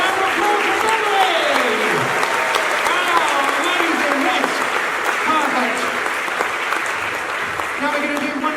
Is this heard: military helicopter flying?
no